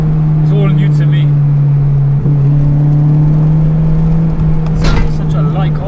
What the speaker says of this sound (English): The crossover is quite aggressive, man. I've never been in a VTEC doing that, so it's all new to me.